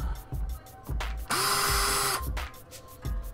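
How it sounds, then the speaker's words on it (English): A power screwdriver backs screws out of a Bitcoin miner's casing, with short clicking bursts and one sustained whirring run of about a second, close by and without talk. "Let's go ahead and take those screws out."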